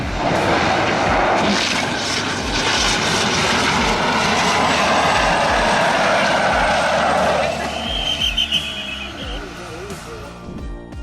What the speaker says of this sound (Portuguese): A hélice desse avião quebrou e um pouso suave não era uma opção.